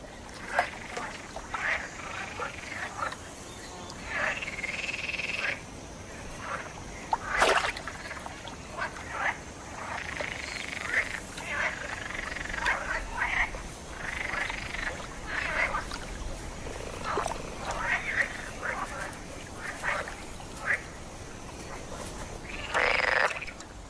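Male green frogs croak in a steady chorus to attract mates, with repeated overlapping calls at moderate distance over a faint watery trickle.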